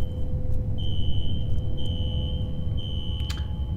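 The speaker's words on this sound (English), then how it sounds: "Ooh, shit. A fire alarm." A fire alarm rings in the first-person shooter F.E.A.R. in a security office, a steady high electronic tone that repeats in long pulses over a low rumbling background.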